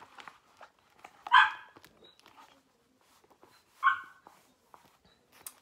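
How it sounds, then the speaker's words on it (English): A dog barks and whines at a closed door indoors at night, giving two sharp barks a few seconds apart between soft whimpers and scratchy movement in a quiet room. "I think the dog wants to come into the room."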